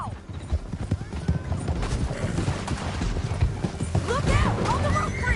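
Horses moving at speed in Red Dead Redemption 2, quick clip-clopping hooves with a whinny and some loud game action around them, while voices talk at times over the hooves.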